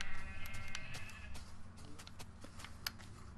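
Minecraft sheep bleat in the game, a few wavering cries heard close over a busy background of game music and ambient sound.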